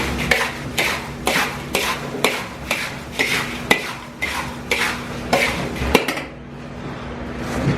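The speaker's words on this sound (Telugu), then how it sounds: "జస్ట్ ఆల్ వేసి మిక్స్ చేయాలి" Mirchi bajji ingredients with sea salt mixed by hand in a bowl at an Ameerpet snack center, a rhythmic series of scraping, clattering strokes about every half second, close and loud, ending with a sharp knock.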